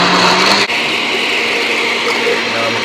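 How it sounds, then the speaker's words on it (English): A loud, steady mechanical whir with a brief dip near the start, a blender motor chopping through plantain, running continuously. "So now I'm going to blend."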